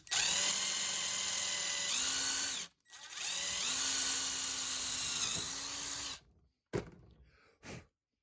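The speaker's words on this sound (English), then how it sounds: "So I'm going to drill that out and see if I can't get this attached." A power drill with an 11/64 bit bores a hole through a rear door handle on a third-generation Mitsubishi Montero, whining loudly in two long runs with pitch dips under load, then brief short bursts before stopping.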